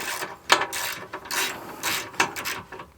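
Ratchet removing 13 mm skid plate bolts under a 2021 Jeep, rapid close clicking pawl strokes in several short bursts, with an occasional sharper knock.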